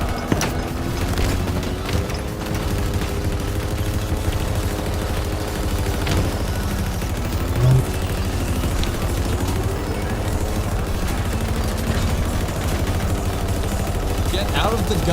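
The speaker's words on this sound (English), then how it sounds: "Why are we being shot at by our dude?" Steady gunfire crackles through a Halo PvP match, continuous rapid shots blended with engine drone and game noise for the whole stretch, with voices talking over it.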